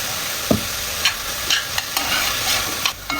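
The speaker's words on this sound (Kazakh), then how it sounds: "сарымсағымызды, пиязымызды қосамыз. Және жаңағы дайындап алған соусымыздан 1-2 қасық қосып қуырып жібереміз" Chopped garlic and onion fried with a spoonful or two of sauce in a pan for Bolognese pizza topping, a loud continuous sizzle broken by several spatula stirs and scrapes.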